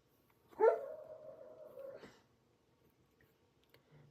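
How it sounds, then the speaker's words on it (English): A sleeping dog lets out a single drawn-out whimpering yelp that swells into a muffled bark-like whine, lasting about a second and a half before fading to near silence, close and fairly clear. "Excuse my dog and his dreams."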